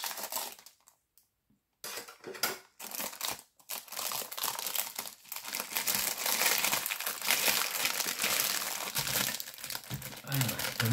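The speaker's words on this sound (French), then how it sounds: "Je prends les ciseaux, ça fera moins de bruit." Crinkly, crunching snips and rustles of scissors cutting plastic packaging around a gear-shaped mould, close up and fairly loud, with brief pauses near the start.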